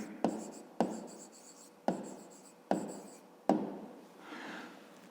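A pen writes an answer on paper close up, a handful of quick scratchy strokes each starting with a light tap, in a quiet room.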